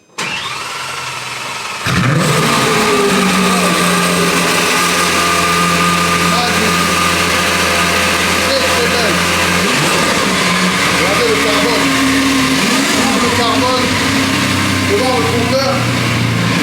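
A sports car engine cranks and catches with a sudden roar, then settles into a loud, steady idle with occasional revs rising and falling, heard up close while people talk nearby.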